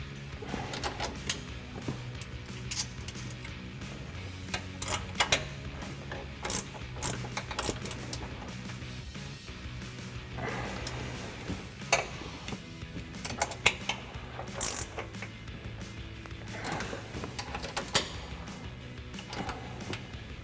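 A 14mm ratcheting wrench tightens nuts on spacer studs while a ReadyLIFT 3.5-inch suspension lift is fitted to a 2021-2023 Ford F-150, giving faint, quick metallic clicks and taps in irregular bursts with light clanks of tools.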